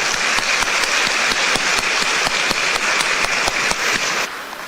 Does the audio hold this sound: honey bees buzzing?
no